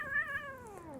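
A cat meows once, a clear drawn-out call that bends downward in pitch, heard close and alone at steady loudness.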